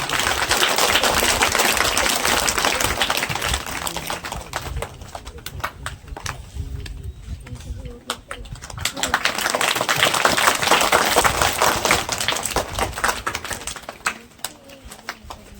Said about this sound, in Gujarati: તાળીઓથી વધાવીશું.